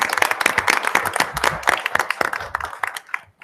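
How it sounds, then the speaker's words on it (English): Crisp, close applause from an audience at a school board of education meeting honoring section champions, energetic clapping with distinct claps that gradually thins and dies away. "Let's give a round of applause."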